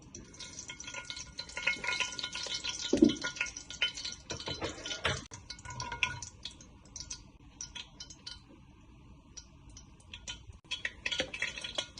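Mustard seeds crackle and pop in hot oil in a pan, with quick, irregular ticking bursts over a faint frying hiss, soft and close, with occasional scrape or clink sounds.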